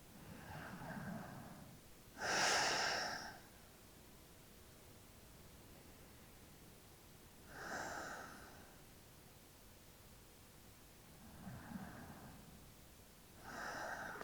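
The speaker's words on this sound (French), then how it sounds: "On prend 3 respirations ici." Deep, slow breaths during a floor yoga stretch: several soft, airy inhales and exhales spaced a few seconds apart, close but quiet, with faint background hiss between them.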